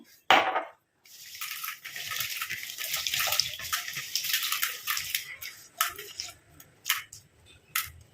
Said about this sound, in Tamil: இப்போ இதில் தண்ணி ஊற்றிட்டு வாஷ் பண்ணி நம்ம எடுத்துக்கலாம்.